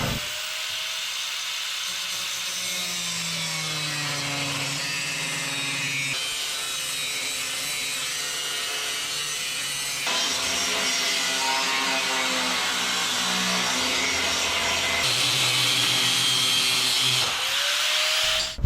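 A cutoff wheel scores thick metal for an air compressor mount, giving a steady high whine and grinding rasp that runs close and continuously for about nineteen seconds, the pitch shifting as the cut goes on.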